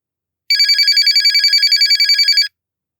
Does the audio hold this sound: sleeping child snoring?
no